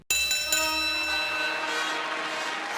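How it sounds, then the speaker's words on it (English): Two bright metallic bell strikes, close and loud, the second following about half a second after the first, each ringing out with long shimmering overtones that slowly fade. "Ding ding. Ring the damn bell."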